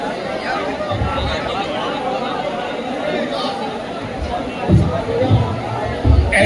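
Dense babble of a large crowd gathered at a religious event, many voices overlapping continuously at moderate distance, with a few louder thumps near the end.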